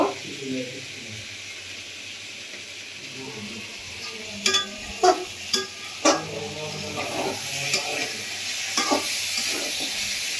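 Vegetables fry in a pan with a steady sizzling hiss, broken by several spatula scrapes and clacks from stirring, and a voice speaks intermittently.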